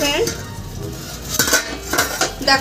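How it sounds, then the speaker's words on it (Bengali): A lid comes off a cooking pot of simmering fig and potato curry, a metallic clank and rattle over steady bubbling and sizzling, close by. "ঢাকনা তুলে আমি দেখে নিচ্ছি ফ্রেন্ড কেমন হয়েছে।"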